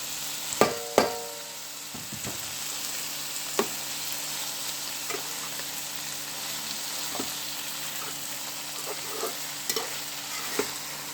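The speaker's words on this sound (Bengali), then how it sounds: "এখন ময়া মাছটা দিয়ে দিব।" Small moya fish fry in a pan with oil, giving a steady sizzle under a soft hum, with a few clinks and taps of a utensil and no talking.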